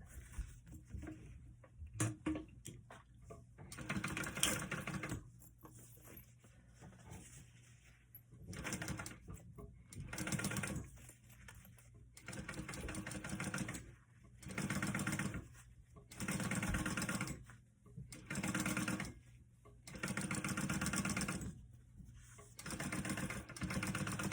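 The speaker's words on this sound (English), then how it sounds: "One thing I love about this industrial that I got is that it's not so heavy duty that I can't sew smaller fabrics on it." Industrial sewing machine top stitching fabric, its motor running in repeated bursts of a few seconds each with short pauses between, close and fairly loud with no talking.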